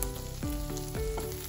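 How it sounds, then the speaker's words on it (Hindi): Finely chopped garlic frying in melted butter in a pan, giving a steady close sizzle with a faint ringing tone and a few soft pops throughout. "लसूण बरी भाजून घेवपाक जाय।"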